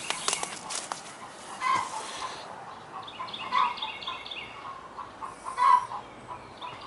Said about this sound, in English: Somebody's laying an egg, man.